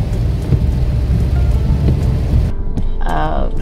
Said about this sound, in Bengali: আজকেও অনেক বৃষ্টি হচ্ছে